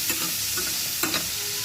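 Shrimp frying in a pan with a pinch of turmeric, a steady broadband sizzle with a few light scraping stirs, close and alone.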